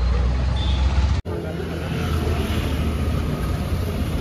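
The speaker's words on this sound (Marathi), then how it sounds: "रिक्षा" An auto rickshaw engine drones steadily on a crowded Sunday street near the Rameshwaram temple in Tamil Nadu, with loud broadband road noise broken by a brief dropout before the hum resumes.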